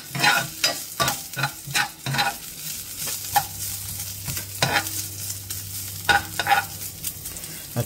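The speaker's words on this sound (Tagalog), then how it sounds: "pina-fried natin muna yung ating bacon" Bacon frying in a pan crackles with a steady sizzle, while a utensil scrapes and taps against the pan in irregular bursts, close up and clear, with no talking.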